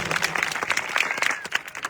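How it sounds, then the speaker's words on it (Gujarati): A crowd applauds with dense, continuous clapping for a couple of seconds at a farmers' assembly in Thuleta village, fairly close and lively. "ત્યારે એમની માટે એકવાર જોરદાર તાળીઓ થઈ જાય મિત્રો"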